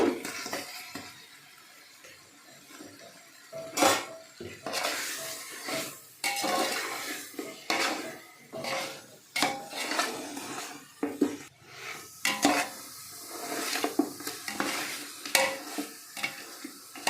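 Mutton is added to cooked-down tomatoes in a pot and stirred, giving repeated scraping and clanking spoon strokes over a steady sizzle, close and fairly quiet, in irregular bursts.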